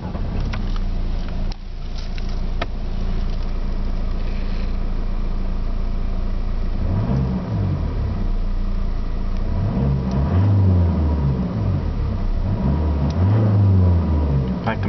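A 2012 Opel Insignia SRi 4x4 diesel engine idles with a low rumble, then revs up several times in rising and falling surges, with a voice talking over parts of it.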